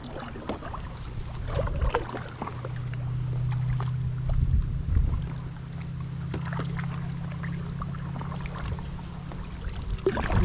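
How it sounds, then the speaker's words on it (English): Kayak paddling while trolling for bass on open water in late spring, with soft steady water swishes and a low continuous hum over a gentle breeze, close and fairly quiet, with no talking. "Start paddling again."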